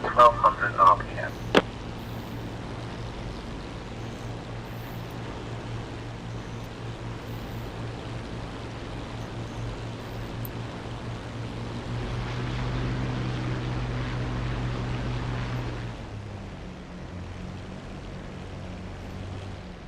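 A de Havilland Mosquito's engine in the DCS flight simulator settles into a steady low drone while warming up at 1200 RPM, with a brief louder rattle at the start and the tone shifting slightly near the end.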